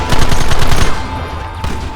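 Heavy gunfire in Red Dead Redemption, with rapid overlapping shots hammering loud and close before easing into a steadier rumble of continued firing.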